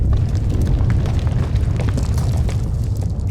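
A massive in-game explosion from the Star Wars: The Old Republic game, set on a planet where the blast triggers a chain reaction in the core, heard as a continuous loud, deep rumbling roar with crackling bursts throughout.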